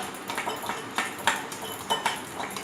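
A spoon scrapes and clinks against a bowl while cream is mixed for a cafe-style cream fruit chaat, giving soft, uneven clatters and taps close up, with no one talking.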